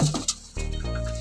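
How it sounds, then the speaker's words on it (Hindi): A pet pigeon, a female bird kept in a friend's loft, gives low soft coos at close range over a short stretch, with a rustle of movement early on. "ये एक कबूतरी है"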